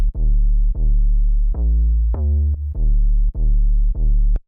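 A deep, booming 808 bass beat processed with the Cymatics Diablo plugin: sustained low notes retriggered in a loose rhythm, loud, thick and wide, with a sharp click on one hit near the end.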